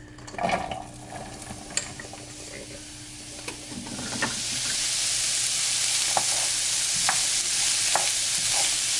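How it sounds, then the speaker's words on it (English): Onion and garlic mixture dropped into a hot pan, starting with a few utensil clinks before a strong, steady sizzle builds and continues with light stirring taps. "we've got a hot pan, so we're gonna go in with our onion and garlic mixture."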